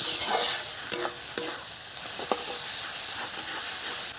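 Tomato and spice paste sautéed in a little oil for a fish curry, a soft steady frying hiss with a few sharp scrapes of a spatula stirring against the pan, close and alone.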